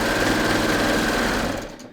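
A sewing machine stitches a seam on ready-to-wear pants in one steady, loud, continuous run that fades toward the end, with no talk.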